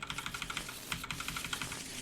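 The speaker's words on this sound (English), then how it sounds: "we are ready to shuffle, shuffle, shuffle" A deck of cards for a superhero card game is shuffled up close, with quick rapid riffling clicks in a steady flurry and no talking.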